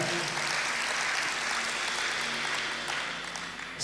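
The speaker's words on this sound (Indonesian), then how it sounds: "Tepuk tangan yang meriah." A church congregation applauds, a dense, steady clatter of many hands that tapers slightly toward the end.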